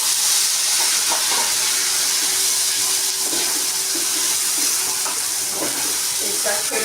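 Kharkon paste hits hot oil in a wok that already holds black cumin seeds, giving a continuous loud crackling sizzle with a bright hiss that holds steady throughout.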